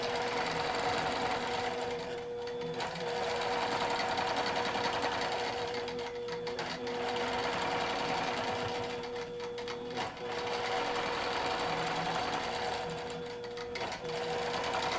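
A QBOT quilting robot runs a sewing machine stitching straight lines, a loud continuous rapid needle rattle and motor whir close by that pauses and dips briefly every few seconds.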